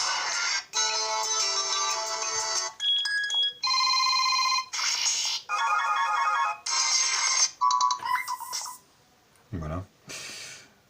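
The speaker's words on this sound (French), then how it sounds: "Donc là, la sonnerie du téléphone." Ringtones play on a Koolnee K1 smartphone, a run of short electronic melodies and chimes switching every second or so, loud and close, with brief gaps between tones and a quieter tail at the end.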